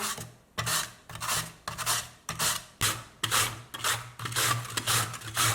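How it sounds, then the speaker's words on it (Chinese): Peeled lotus root is pushed against a grater into fine shreds in a regular rhythm of about eleven rasping strokes, each a close, crisp scrape separated by brief pauses. "再把它给擦成细丝。"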